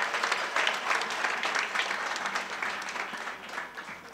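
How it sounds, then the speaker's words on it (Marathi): An audience at a Datta Jayanti devotional kirtan gathering claps loudly and steadily for the cymbal players, a dense, sustained round of applause with no speech. "टाळकऱ्यांकरता एकदा जोरदार टाळ्या वाजवा सर्वांनी."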